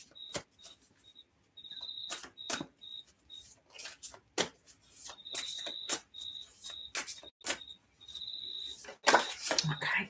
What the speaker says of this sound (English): I can hear the cicadas just singing in the background.